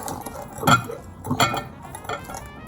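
Salad with cucumbers, herbs and lemon juice is mixed in a bowl, giving two or three light clinks and scrapes of utensils against the dish, close and fairly soft.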